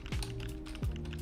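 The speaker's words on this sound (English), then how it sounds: "My keycaps when I'm typing." Clicky computer keyboard keycaps being typed on, a few close, crisp key clicks in quick succession, quiet and alone.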